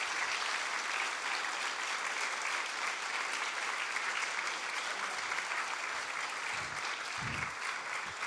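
An audience gives steady applause for runner Nick Rose, a dense, even roar of many hands clapping at moderate distance that holds throughout, with a couple of low thumps near the end.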